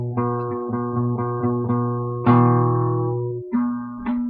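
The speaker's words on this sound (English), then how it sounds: "those two notes should sound the same for your 1st and 2nd string" Single guitar notes are plucked one after another on the first and second strings for tuning, each ringing clearly before fading. There are about eight notes in steady succession, with one longer sustained note in the middle.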